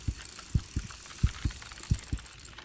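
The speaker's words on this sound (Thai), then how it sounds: "อุ้ยหัวใจเต้นด้วย" A heartbeat effect from the BassMaster Fishing 2022 fishing game: low, thudding double beats repeating steadily, soft and close, over a faint hiss with no talking.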